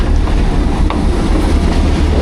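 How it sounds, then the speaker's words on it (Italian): A train rushes past extremely close along a jungle-lined track on the way to Machu Picchu, a loud, continuous roar of wheels and rattling cars filling the whole moment. "passano treni a 1 centimetro"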